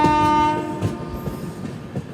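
A blue Secunderabad–Danapur express train rolls past, sounding a brief horn at the start over a steady rumble of rail noise and faint clacking, with no voices.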